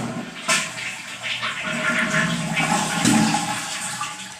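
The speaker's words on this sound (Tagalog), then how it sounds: "So, ipa-flash uli natin." A toilet with a faulty tank that overflows and keeps dripping is flushed again during a home repair; a loud rushing flush swells at about half a second and water keeps pouring steadily as the tank refills, with no talk over it.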